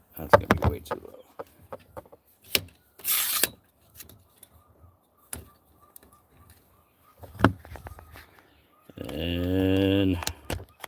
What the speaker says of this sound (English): chicken's going crazy next door